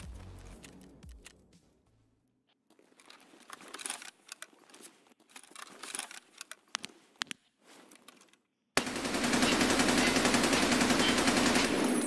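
Weapon test-fired in Escape from Tarkov: after a near-quiet start come scattered sharp shots and bursts, then a sudden loud continuous roar of rapid automatic fire to the end.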